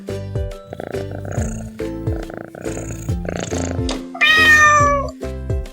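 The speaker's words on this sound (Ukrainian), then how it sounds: "Давай послухаємо, як нявка і мурчить котик" A cat meows several times over a steady rumbling purr, close by, with one louder, drawn-out meow near the end.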